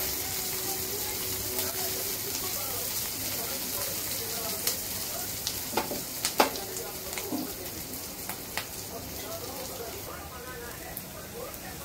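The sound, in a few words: onion, garlic and ginger frying in oil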